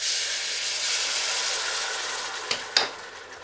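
A tomatillo mixture fries in two tablespoons of hot oil in a pan over medium heat, a loud, close, continuous sizzle with a couple of brief clattering knocks near the end.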